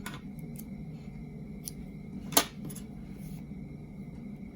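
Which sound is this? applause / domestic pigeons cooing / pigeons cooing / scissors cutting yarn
scissors cutting yarn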